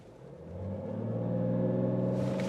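A BMW 640d diesel accelerates hard on a timed launch run, its engine note rising from a low rumble into a strong, steady drone with clear harmonic tones, close and loud, with no talking.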